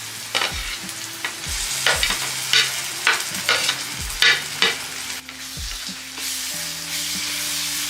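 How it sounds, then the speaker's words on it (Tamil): Ginger garlic paste frying in hot oil with browned onions for a boneless chicken gravy, a steady loud sizzle with repeated scraping stirs of a spoon against the pan, no talking. "இப்போ வெங்காயம் செவந்துருச்சு. இப்போ இஞ்சி பூண்டு பேஸ்ட்டு போடுறேன்."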